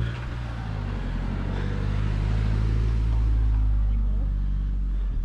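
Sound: road traffic, cars passing

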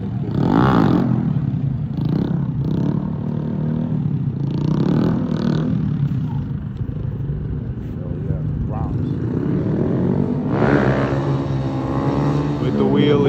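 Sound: Grom mini bike 4-stroke engine doing a wheelie

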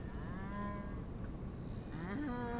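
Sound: cow mooing in video game Głupki z Kosmosu

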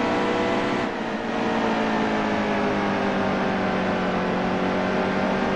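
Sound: race car engine in NASCAR Heat 2 video game

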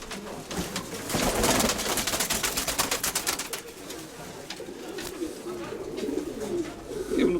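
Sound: pigeon cooing

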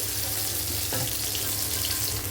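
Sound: frying soya chunks in a little oil

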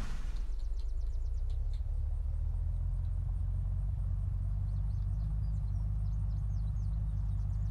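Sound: vehicle engine driving in video game Unturned

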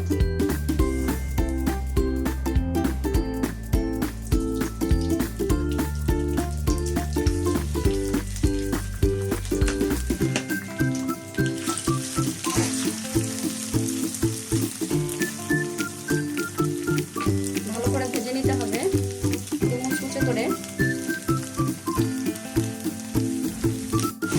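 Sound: frying spiced banana blossom in pan

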